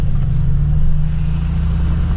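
Mercedes-AMG G63 4x4 heard from inside the cabin while driving, a steady deep low engine and road rumble that holds constant and loud throughout, with no talk over it.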